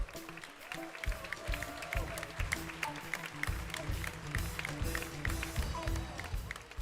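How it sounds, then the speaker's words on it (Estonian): A school anniversary alumni concert audience applauds a pop choir with a dense, continuous patter of clapping and some crowd noise, fairly faint overall with a few tonal notes sounding underneath. "Kõik need inimesed, kes on tulnud siia lavale, tehke neile üks suur aplaus"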